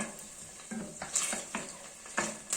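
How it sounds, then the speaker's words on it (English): Chilies frying in very hot oil for a Thai curry, stirred with a wooden spoon: a soft continuous sizzle with repeated knocks and scrapes of the spoon, fairly quiet and without speech. "So the oil is very hot. So we're just going to put those chilies in. My wooden spoon."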